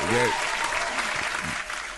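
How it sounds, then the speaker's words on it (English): A canned studio audience applause effect, played from a soundboard on a talk radio show, rolls as a steady crowd wash while someone speaks over its opening moments. "studio audience applause and the sitcom laughter, so I'm pushing the wrong one."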